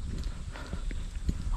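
Horses walking along a forest trail in Kurland park, Plettenberg Bay, South Africa, their hooves making soft, irregular clip-clop footfalls close by on the ground over a steady outdoor background.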